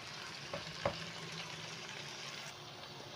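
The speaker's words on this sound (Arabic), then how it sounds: "خليه يلف كده بالبصل ويفك مع بعضه بالبصل ويلف لفتين كده" Vegetables being stirred and fried with onions in a pan for a meat and mixed vegetable tray bake, a soft continuous sizzle with a sharp scrape of the spoon early on.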